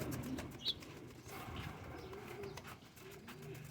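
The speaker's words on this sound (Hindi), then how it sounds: "ये पूरी लाट है दोस्तों टेडी कबूतरों की।" Teddy pigeons in a loft coo softly in a low, rolling murmur, with one quick sharp flutter or chirp early on and faint background noise.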